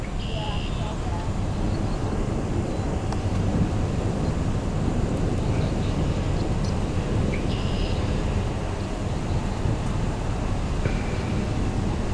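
An approaching tornado near Gilmore, Arkansas, in May 2008 gives off a steady, heavy wind roar that fills the whole stretch at a constant loud level, like a continuous rushing rumble with no breaks.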